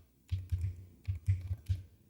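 Keystrokes on a computer keyboard come in short clusters of clicks and taps, close and fairly quiet, with no talking.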